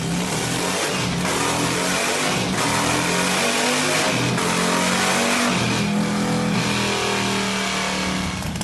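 A loud supercharged motorcycle engine roars and revs up close, a dense, continuous growl with no voices.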